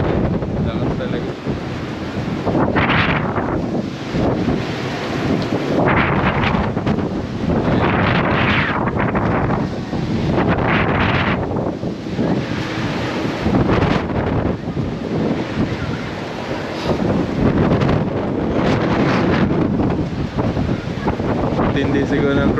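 Loud, cold gusts pound an exposed microphone at a Tagaytay hilltop park, rumbling in repeated surges and lulls over a long stretch, with someone talking intermittently under the roar.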